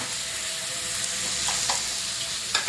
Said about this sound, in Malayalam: ചെമ്മീൻ ഫ്രൈ ഉണ്ടായിക്കൊണ്ടിരിക്കുക കേട്ടോ